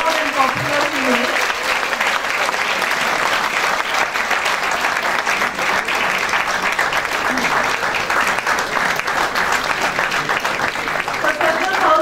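A lecture hall audience applauds the speaker with a loud, sustained wash of dense clapping that holds steady for the full twelve seconds, with crowd murmur underneath.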